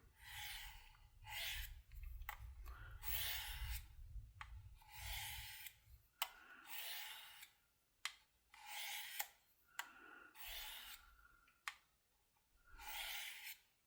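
A Kizer Wanderer knife blade is drawn back and forth against a sharpening stone to trim the burr, giving repeated close, raspy scraping strokes in a steady rhythm with short pauses between passes.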